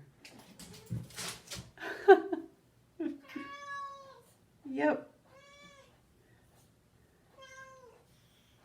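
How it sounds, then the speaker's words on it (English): A pet cat meows loudly indoors several times in short, tonal calls that echo in the room, with a person talking before and between the meows; running footsteps are not clearly distinct. "She likes to run around really fast and then do a loud meow to hear the echo of her voice."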